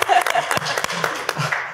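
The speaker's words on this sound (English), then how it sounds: "Yeah, you can applaud for that." Scattered audience applause at a presentation: a handful of sharp, uneven claps spread across a couple of seconds, thin rather than a full ovation.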